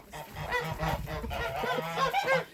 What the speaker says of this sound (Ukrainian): Ой, гусики кричать.